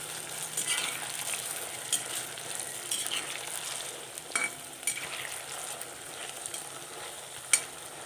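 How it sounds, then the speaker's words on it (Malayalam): Okra crackles as it deep-fries in coconut oil until crisp, a fairly quiet steady bubbling hiss with scattered pops and occasional sharp scraping or tapping of a spatula, close by, no voices. "അപ്പം പകുതി വെണ്ടയ്ക്ക ഇട്ട് ഇത് വറുത്ത് കോരിയ ശേഷം ബാക്കിയും കൂടെ ഇടാം"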